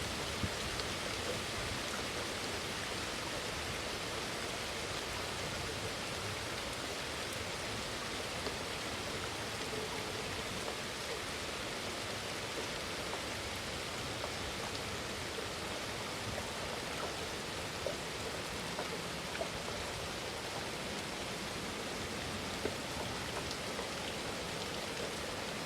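Steady rain falls continuously, a dense, even hiss of drops on surfaces with occasional faint louder drips, unbroken for the whole stretch with no voices.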